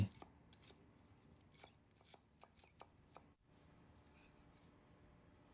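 Quick, irregular knife taps on a cutting board as spring onions and culantro are chopped, quiet and close, with short pauses between bursts.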